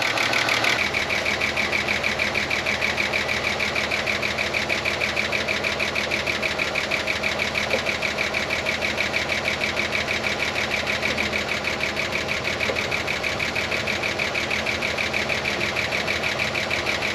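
A 30-year-old Ford Falcon engine idles steadily, a rapid rhythmic tapping from a sticky lifter ticking over the even mechanical hum throughout, close and fairly loud with no talk.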